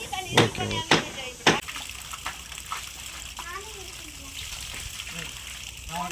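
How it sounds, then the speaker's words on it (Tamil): Water is poured into a cement, sand and gravel mix at a house construction site, a splashing gush heard under people talking, with a few sharp knocks early on. "இந்த அளவுக்கு நாங்கள் தண்ணி ஊற்றி கலக்கிடுவோம்"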